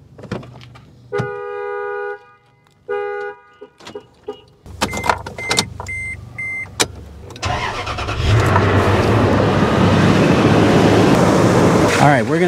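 Warning chimes beep, then a car with a dead battery cranks in short bursts while jump-started from a NOCO Boost GB70 pack, catches, and settles into a steady, loud running engine close by.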